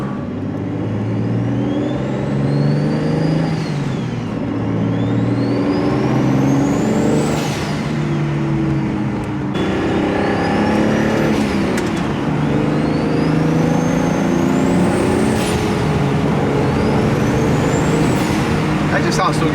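Loud, close 700 hp BMW N54 car accelerating in a short pull, engine pitch climbing steadily to a peak and dropping, then climbing again in a second run, with throaty rumble throughout.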